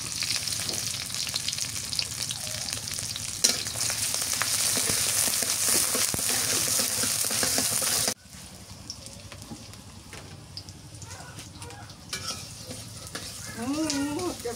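Onions and green chillies sizzle loudly in hot oil in a pan, a steady dense frying hiss that drops abruptly to a quieter simmer partway through, with faint kitchen clatter and brief voice-like sounds near the end.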